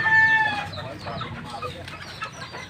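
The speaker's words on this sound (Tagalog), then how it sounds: "May mga sisiw ka pala dito." Hens and chicks cluck and peep nearby in a farmyard, with a rooster-like call at the start, then softer scattered clucks and chirps.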